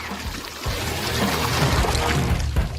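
Water poured or splashed onto a person during a Hindi eating challenge where players eat with no hands, one hand or two hands; a loud, steady rush of liquid with low rumbling runs almost the whole time, with no talk.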